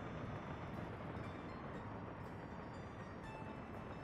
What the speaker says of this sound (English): We're gonna have to let the oil train run to the station.